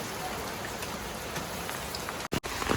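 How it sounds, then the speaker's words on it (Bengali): Light, continuous rain patters on surfaces with a steady fine hiss during a windy spell, fairly faint and even, with a short break near the end. "আমাদের এখানে কন্টিনিউ বৃষ্টি হচ্ছে হালকা, তার সঙ্গে হালকা হাওয়া ঝোড়ো বাতাস বইছে।"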